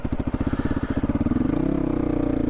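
A 2022 GPX Moto FSE450R motorcycle engine catches and settles into a steady, close, loud thumping idle, its rapid pulses evening out after a brief uneven start.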